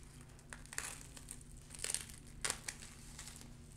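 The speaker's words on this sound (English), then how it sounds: "I'm gonna open this up and just peel off your cling wrap" Cling wrap being peeled off a layer of glitter gel, a soft close crinkling with a few louder crackling bursts as the plastic lifts away, quiet overall and with no talk.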